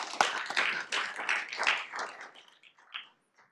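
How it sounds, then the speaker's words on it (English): Scattered applause from a small group at a council meeting, a handful of hands clapping unevenly for a few seconds before thinning out to a few last claps and quiet. "if we could give her a big round of applause"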